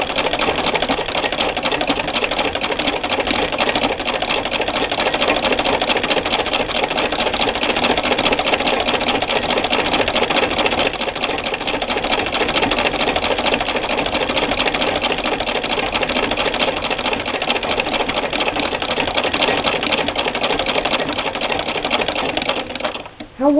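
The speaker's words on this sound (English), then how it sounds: "knowing that the way this machine sews, it would just go through this rug without a problem" An 1891 White treadle sewing machine stitches through a rug over a quarter inch thick, a loud, continuous rapid mechanical clatter that runs steadily and close for the whole stretch before stopping abruptly at the end.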